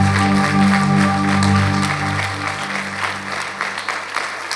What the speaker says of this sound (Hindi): उस यीशु के लिए एक जोरदार ताली बजाए।